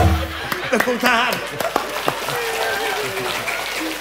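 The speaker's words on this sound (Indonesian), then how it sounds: "Tepuk tangan." Scattered audience clapping in an outdoor garden setting, mixed with voices, brief laughter and tonal background sounds, fairly moderate and uneven.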